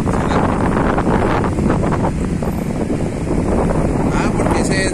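Strong outdoor wind in Siloé, near a street circus performance, roars continuously and loudly against the microphone for the whole stretch, with faint voices buried beneath the gusts.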